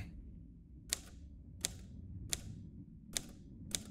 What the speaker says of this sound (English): You've got to be kidding me. A typewriter?